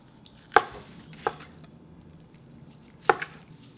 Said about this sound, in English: So I'm going to cut very nicely, like that. Just 1/8 inch. Slice really thinly.